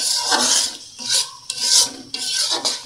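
Masala spices for a meat roast being stir-fried in a pan, with a spatula scraping and rasping in several repeated strokes, close and fairly loud over a faint sizzle.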